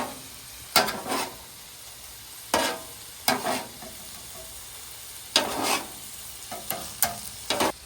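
Philly cheesesteak with melting cheese on a Blackstone griddle, heard as a low steady sizzle broken by a handful of sharp scraping and tapping strokes at uneven intervals, close and moderately loud, with no voices.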